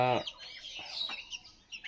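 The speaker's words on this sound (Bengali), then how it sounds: "দুইটা মুরগি আছে" A chicken lets out a brief cluck up close, followed by soft scattered clucks and chirps from the birds nearby.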